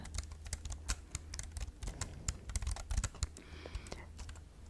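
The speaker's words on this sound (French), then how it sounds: "J'ai toujours aimé le son des claviers." Steady computer keyboard typing with crisp, close clicks in a fast, uneven patter. No one speaks.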